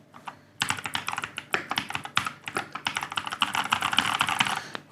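Rapid typing on a Keychron K2 Pro mechanical keyboard, a close, crisp stream of clacking keystrokes with a few isolated taps first, then continuous bursts of keys.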